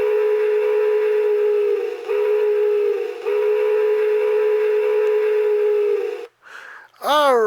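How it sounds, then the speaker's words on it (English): A model train whistle from an MRC sound system blows one long, steady, loud tone for about six seconds, with two brief dips in the middle. A short warbling note follows after a pause. "And now this whistle number 2."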